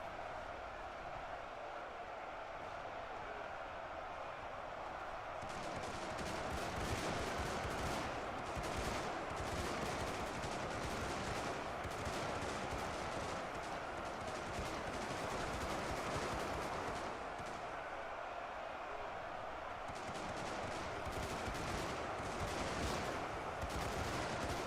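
Massed rifle units in the battle simulator UEBS 2 keep up continuous, distant crackling gunfire for the whole stretch, a thick wash of overlapping shots that swells and thins in waves without any talk.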